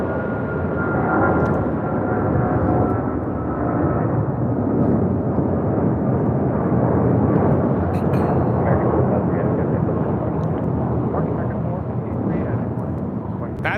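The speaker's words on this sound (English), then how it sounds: "That is American Airlines 453 taking off to Dallas-Fort Worth on a 777-200ER" An American Airlines Boeing 777-200ER takes off at LAX bound for Dallas-Fort Worth, its jet roar a loud, sustained broadband rumble that swells slightly and holds throughout.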